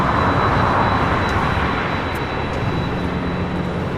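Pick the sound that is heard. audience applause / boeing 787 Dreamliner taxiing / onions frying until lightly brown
boeing 787 Dreamliner taxiing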